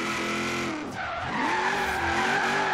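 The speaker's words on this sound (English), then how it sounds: "lots of wheel spin drifting into second and we kind of lose power" A supercharged HSV GTS Maloo in Forza Horizon 3 spins its rear tires, loud squealing skid layered over a revving engine whose pitch dips briefly then climbs again.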